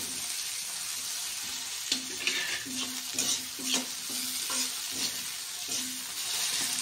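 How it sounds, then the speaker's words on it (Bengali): Sliced onions frying in oil in a kadai used earlier for frying fish: a continuous close sizzle with a series of soft spoon-stirring scrapes and taps. "প্রথমে পেঁয়াজগুলো সুন্দর করে ফ্রাই করে নেব"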